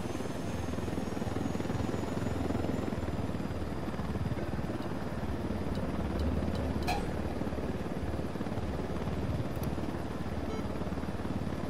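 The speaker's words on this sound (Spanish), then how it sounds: "Que le den al helicóptero." Helicopter in the video game Ghost Recon Wildlands: a loud, steady rotor drone with engine whine that continues unbroken for the whole stretch, close by, with no talk over it.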